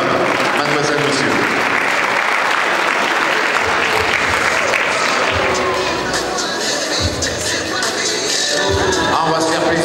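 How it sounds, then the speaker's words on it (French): A boxing gala crowd in Saint-Avé, watching cadet bouts, applauds loudly and continuously at the end of a round, with some voices and cheering mixed into the clapping. "effectivement vous pouvez applaudir madame, mademoiselle, monsieur"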